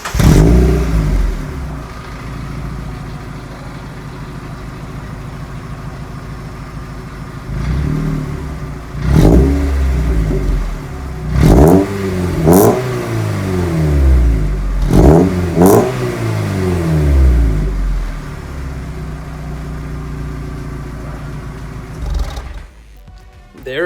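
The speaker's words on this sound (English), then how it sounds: "let's give it some revs." A Mazda Miata NB with a decat exhaust idles with a deep, steady rumble, then is revved in several sharp bursts that rise and fall, loud and close, with a final rasping blip at the end.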